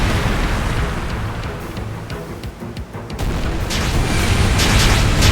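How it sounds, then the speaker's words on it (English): Ship cannons fire in a naval battle in the action RPG Ys X: Nordics, a dense, continuous roar of overlapping booms and blasts that stays loud throughout, with no talking. "Fire the cannons!"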